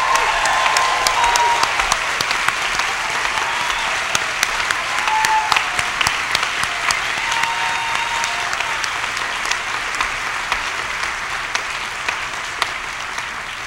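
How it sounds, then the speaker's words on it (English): A convocation audience at a fall graduation ceremony applauds steadily for the graduates, a dense, even wash of clapping from a large crowd with occasional louder claps standing out. "raise a cheer for our graduates here."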